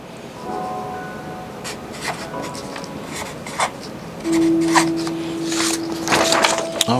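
A pen scratches across paper as a date of birth is handwritten, soft irregular strokes close by, with a faint tone in the background.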